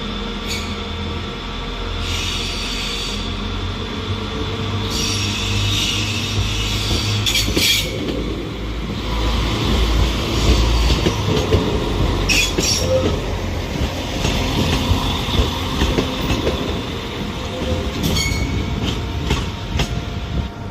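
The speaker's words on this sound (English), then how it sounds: "departing is Chiltern Railways" A Chiltern Railways train pulls out of Birmingham New Street with a continuous low rumble, rolling wheel clatter and intermittent high wheel squeals. The sound is loud and steady throughout, with no talk.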